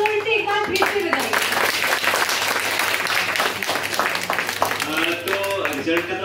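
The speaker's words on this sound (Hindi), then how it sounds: "तालियां जोर से एक बार फिर से बजाइए" A crowd at an inclusive poetry competition breaks into a second round of loud, sustained applause, many hands clapping steadily throughout with some voices underneath.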